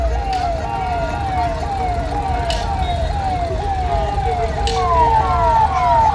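An ambulance siren wails in repeated rising sweeps through a traffic jam near Gurudwara Garna Sahib in Dasuya, Hoshiarpur, loud and steady over a dense rumble of crowd and road noise.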